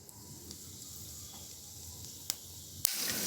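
Whole spices sizzling in a small amount of hot oil at the start of a goat curry, a steady soft crackling hiss close by that flares into a louder spitting burst near the end.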